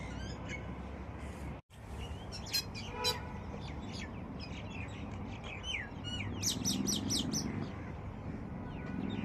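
Birds chirp and tweet in short bursts against quiet, cold outdoor ambience in New Delhi, with a busier cluster of calls near the end.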